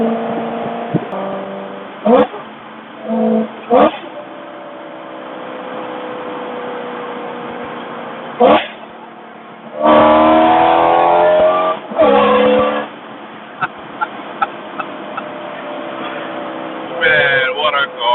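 A BMW E90 M3 with a six-speed manual revs while driving, its engine rising in repeated sweeping pulls between shifts, loud and close from inside the cabin, with brief spoken remarks in between.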